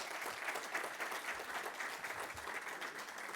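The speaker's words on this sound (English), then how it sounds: "let's give Laura a real big round of applause" Audience applause for a conference speaker after a talk on becoming a mobile operator, a steady wash of many hands clapping at a faint, distant level throughout.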